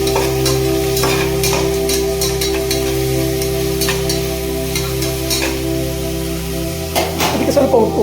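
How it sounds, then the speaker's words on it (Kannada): Tomatoes being stirred and fried in a pan for village-style chicken sambar, a steady sizzle with repeated scraping stir strokes in an uneven rhythm, close and fairly loud, with a person talking faintly underneath. "ಸ್ವಲ್ಪ ಉಪ್ಪು ಹಾಕ್ಕೊಂಡು ಈ ಥರ ಫ್ರೈ ಮಾಡಿ."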